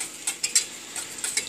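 A whisk beating a mixture inside a bowl, heard as a string of quick, irregular metallic clicks and scrapes close by, with no one talking.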